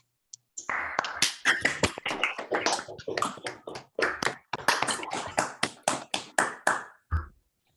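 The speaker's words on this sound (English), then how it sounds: "let's unmute and give Larry a round of applause." Scattered, uneven hand claps from a few unmuted participants of an online mathematics lecture on restriction theory, a steady run of sharp, close taps for about seven seconds before stopping.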